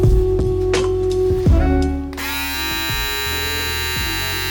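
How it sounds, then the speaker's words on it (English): A WMARK electric shaver spinning at 8,500 RPM gives a steady, loud, close buzzing whine with a constant hum, shifting pitch slightly as it is handled and held. "So there's the shaver"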